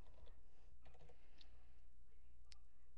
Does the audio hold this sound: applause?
no